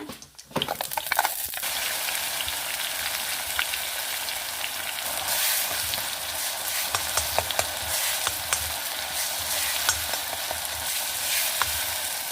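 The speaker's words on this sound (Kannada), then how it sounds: "ಸ್ವಲ್ಪ ಈ ತುಪ್ಪ ಬಿಡುವಷ್ಟು ರೋಸ್ಟ್ ಮಾಡ್ಕೊಂಬ" Onion masala with cumin roasting in ghee in a pan for kabuli chana chole, a continuous close sizzle dotted with spatula scrapes and stirring clicks.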